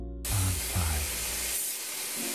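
An airbrush sprays sap green paint onto the rear fuselage of a 1/72 scale Su-30MK-1 Flanker model: a steady, close, loud hiss that starts abruptly and runs with little change, alone without talk.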